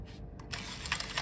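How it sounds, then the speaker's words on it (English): A Hasselblad 500C shutter set to time mode is released with a crisp mechanical click, followed by a brief rattling of the mechanism, all close up with no talking. "So you want a long exposure, click, shutter is open. To release it, there."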